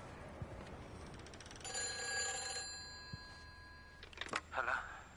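A telephone bell rings in the video game Everybody's Gone to the Rapture, a bright sustained trill heard at moderate level over faint background noise, with a brief second ring afterward.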